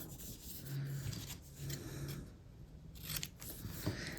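Scrap paper being folded in half and handled at close range, a steady papery rustle and crinkle continuing throughout with a few sharper creases near the end.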